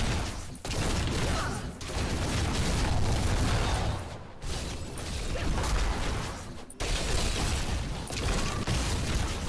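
Corpse explosions cast by a Necromancer in the video game Diablo 3 make a dense, continuous roar of overlapping blasts and rumbling debris, loud and unbroken apart from a few brief dips.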